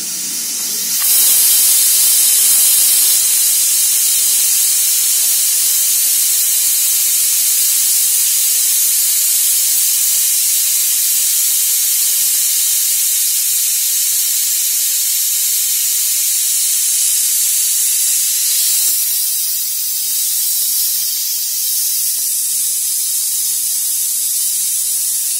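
A pressure cooker cooking khichdi vents steam in a loud, continuous hiss that holds steady for over twenty seconds and eases off slightly toward the end.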